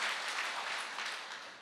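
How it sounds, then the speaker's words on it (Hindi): Distant, hissy applause from an audience at a health awareness event in India, a steady wash of many hands clapping, faint and fading slightly. "एक जोरदार तालियां होनी चाहिए इस प्रोडक्ट के लिए"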